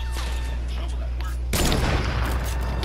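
Gunfire in a video game bursts in loudly after a quieter stretch, a dense rattle of shots over a constant low hum, with a voice briefly audible.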